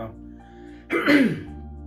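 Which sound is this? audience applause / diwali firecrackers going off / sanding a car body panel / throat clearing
throat clearing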